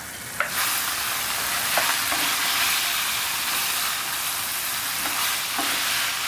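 Seared beef pieces hit a hot pan seasoned with salt and pepper and fry with a continuous loud sizzle, broken by a few light scrapes and stirs, all near and without speech.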